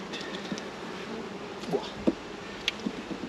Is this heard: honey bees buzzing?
yes